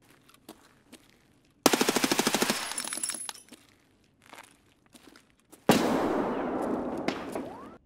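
Suppressed bursts of automatic fire from an MP5SD submachine gun in the game Escape from Tarkov, two loud sustained volleys of rapid shots separated by quieter footsteps and small noises.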